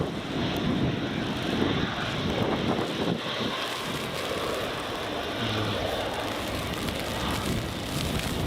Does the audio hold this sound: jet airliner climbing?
yes